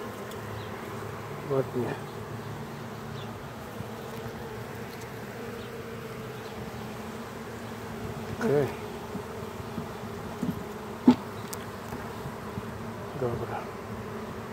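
Honey bees at an open hive give a steady, dense, low buzz close by, with a few louder passing hums and light handling bumps. A voice speaks briefly now and then.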